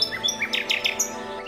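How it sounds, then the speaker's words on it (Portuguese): A nightingale sings a brief run of bright, sweeping chirps and trills, close and clear, with a soft steady hum underneath. "O rouxinol é famoso pelo canto."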